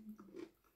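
A single quiet bite into a crunchy fried chicken empanada with vegetables gives a short crisp crunch followed by a little chewing, close and soft.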